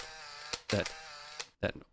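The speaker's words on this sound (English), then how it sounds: "there is sound to this one, but it's like a camera shutter click each time" Camera-shutter-like clicks sounding in combat footage: a few sharp, loud clicks spaced apart, some followed by short bursts of noisy rattle, over a quiet background hum.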